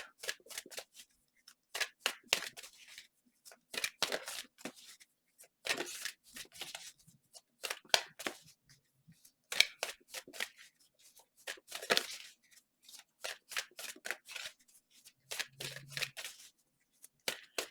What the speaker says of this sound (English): I prefer to shuffle them until they fall